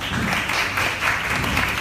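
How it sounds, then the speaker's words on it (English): An audience at a business seminar gives a round of applause for a young entrepreneur being introduced, a short, even burst of crowd clapping heard alone. "So a round of applause."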